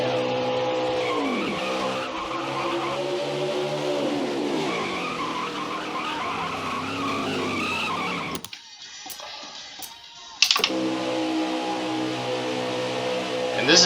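Replay of a race car crash in the NASCAR Heat 5 video game: loud engine drone and screeching tire skids, then a sudden near-silent gap broken by sharp impact clicks before the engine roar resumes.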